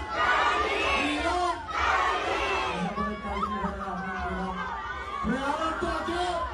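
A live concert crowd chants a name back in answer to a call from the stage, loud massed voices shouting in unison with some scattered cheering.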